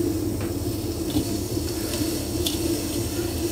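Steady hissing scrape of a tool trimming a clay bowl on a spinning pottery wheel, with a constant motor hum and occasional faint ticks throughout.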